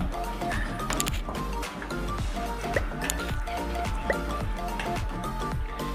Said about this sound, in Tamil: நல்லா கிளறி விட்டுருங்க சீக்கிரமாக